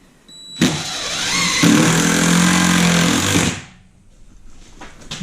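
A power drill drives a screw into a wooden bunk bed frame inside a school bus conversion, one sustained loud whir lasting about three seconds, close by, then it cuts off into quiet room noise.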